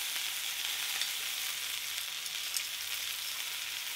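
Wild duck liver searing in a hot pan, a steady, dense hiss of frying fat that runs on evenly throughout, close and fairly quiet, with no voices.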